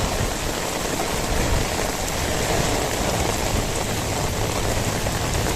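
Heavy rain pours down during a walk outdoors, a dense, loud hiss of drops hitting surfaces all around without a break, no voices heard.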